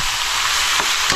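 Duck meat hits a hot pan for adobo, giving a loud, steady broadband sizzle that holds throughout with a brief stirring rustle near the end.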